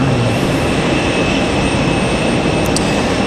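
An American Airlines jet departs Raleigh-Durham International Airport on a stormy day, its engines a loud, steady broadband roar that holds without a break from start to finish, with no voices.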